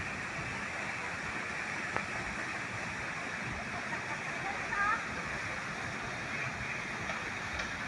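Bolinao Falls in Pangasinan roars with a steady, broad rush of falling water, constant and enveloping, with a faint brief chirp partway through.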